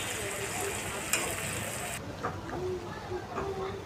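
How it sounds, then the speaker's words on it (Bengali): Vegetables and green chillies frying in oil in a pan, a dense continuous crackling sizzle that drops abruptly halfway and then carries on softer with small pops and light stirring. "তো এখন সবজিটাকে তেলের মধ্যে ভেজে নিচ্ছে, দিয়ে দিচ্ছে পরিমাণ মতো কাঁচামরিচ।"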